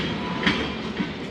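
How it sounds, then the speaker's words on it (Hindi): A passenger train on the Zakariya Express route rolls into Hyderabad Junction, steady rumble with rhythmic wheel clatter, loud and close from inside the coach. "ट्रेन हैदराबाद जंक्शन पहुंच गई है"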